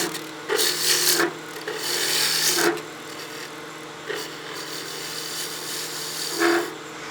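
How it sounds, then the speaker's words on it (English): A skew chisel makes slicing cuts into spindle wood turning on a lathe, giving bursts of dry scraping and rasping that come and go over a steady motor hum, close and fairly loud. "And then we'll use a slicing cut with our skew."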